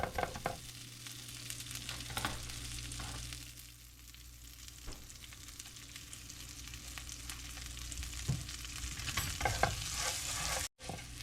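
Food toasting in a hot pan, heard as a continuous close sizzle with scraping stir strokes and clinks of the utensil, steady and fairly loud with no talking.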